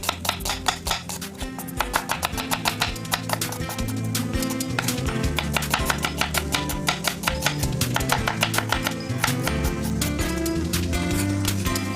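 A knife rapidly slices an onion finely on a board, a fast, even stream of crisp chops running steadily throughout.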